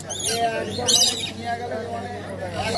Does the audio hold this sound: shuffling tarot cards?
no